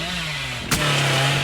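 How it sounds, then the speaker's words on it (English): Chainsaw revving in the video game Dead by Daylight: a loud, steady, buzzing engine drone that breaks for a brief sharp burst midway, then settles back into the same even whine. "I'm hitting them with the chainsaw"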